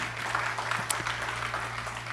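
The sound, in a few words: church congregation applause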